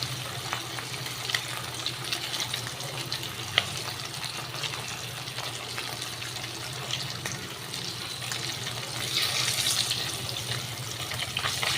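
Hilsa fish fry in hot oil in a pan, giving a continuous dense sizzle and crackle at close range that swells slightly near the end, with no talking.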